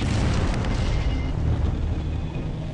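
Rock blasting at the Diavik diamond mine, a crater in the frozen north, rolls out as a sustained, loud, rumbling blast that stays dense and roaring throughout, with no talk over it.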